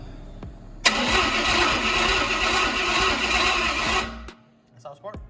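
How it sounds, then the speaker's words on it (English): An engine cranks over slowly for about three seconds on a battery that was never charged, a loud steady churning that stops abruptly, followed by brief voices. "God, that thing spins over slow."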